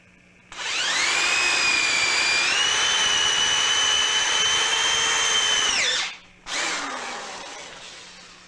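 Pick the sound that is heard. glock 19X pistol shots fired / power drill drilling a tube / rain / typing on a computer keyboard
power drill drilling a tube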